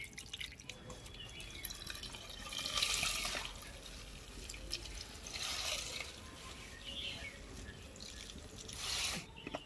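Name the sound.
water draining from fresh chhena cheese after rinsing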